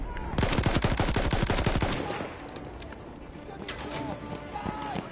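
Rapid automatic gunfire from the Battlefield 1 video game on PS4, with loud, dense bursts of shots for about two seconds, then sparser, more distant shots and game noise while people talk.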